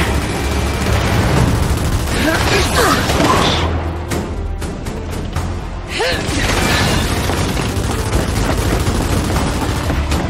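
Gunfire in the Gears 5 video game, a dense barrage of shots and booms mixed with explosions and whooshes, loud and continuous with a brief lull midway.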